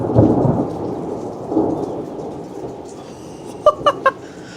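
Thunder rumbles loud and close at the start of a thunderstorm, then rolls on under steady rain, with a few sharp crackling bursts near the end.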